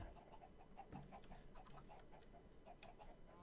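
Quiet, distant clucking from chickens in the video game Minecraft, a string of brief chirpy clucks in loose rhythm against a constant low ambient hum.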